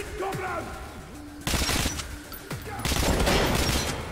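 Automatic gunfire bursts in Metro Last Light, loud and close, with a rapid volley around the middle and a sustained fusillade at the end over rumbling game ambience.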